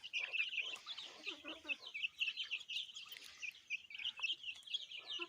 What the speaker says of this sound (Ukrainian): Ті вже такі гарні гусики.